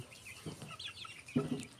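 Farm chickens raised by a poultry keeper cluck and chirp softly at a moderate distance, with a couple of short clucking bursts and faint bird calls in a quiet setting.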